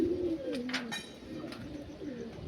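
Punjabi Malwai pigeons cooing nearby, a low rolling coo repeated a few times at moderate volume, with brief higher chirps and light background noise.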